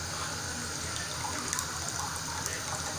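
Drinking water pours in a steady, continuous gush, close and fairly loud, with a faint voice underneath.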